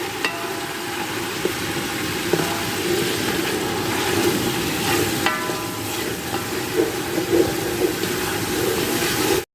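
Garlic-ginger paste and tomato pulp fry in a pan for a beef Manchurian dish. A loud, steady sizzle runs throughout, broken by occasional clinks and scrapes of a spoon.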